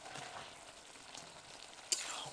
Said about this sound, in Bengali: এবার এর মধ্যে দিয়ে দেবো ম্যারিনেট করে রাখা মাংস।